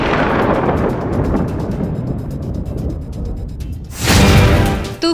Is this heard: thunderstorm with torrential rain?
yes